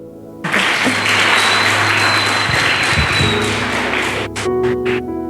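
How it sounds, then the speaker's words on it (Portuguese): A church congregation breaks into a loud round of applause, dense and continuous for several seconds over a sustained organ-like musical backing, with a few sharp separate claps near the end. "Salva de palmas pro Vevel."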